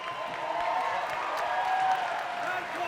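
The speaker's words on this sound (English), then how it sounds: "please put a round of applause together for both the fighters in the center of the ring" Boxing arena crowd applauding both fighters in the ring after a draw decision, a steady wash of clapping and cheering that holds evenly throughout, with a voice faintly present underneath.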